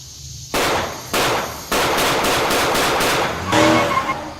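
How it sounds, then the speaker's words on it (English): A series of sharp, loud bangs in quick bursts, like distant gunshots, echoing and sustained, with a rougher burst near the end. "I thought I heard gunshots."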